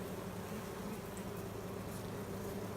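A honeybee swarm in a hive at its new location gives off a steady, continuous low buzzing hum, close and even throughout with no voices.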